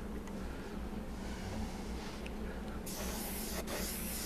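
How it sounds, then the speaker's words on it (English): Airbrush spraying paint onto a guitar body as a steady, close, soft hiss that runs the whole time, getting brighter and stronger toward the end, with no talking. "I'm just gonna give it a quick wisping of the airbrush."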